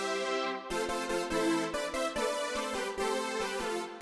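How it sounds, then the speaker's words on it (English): Brassy, funky Alchemy synth patch in Logic Pro with a retro 80s character, playing punchy staccato chords in a rhythmic pattern, loud and alone with no talking. "I actually went with Alchemy, and I went with a patch called Brassy and Funky. And that sounds like this."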